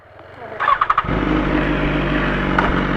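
A BMW S1000RR sport motorcycle fires up under hot midday sun, a few sharp revs bursting out before it settles into a loud, steady, rumbling run close by.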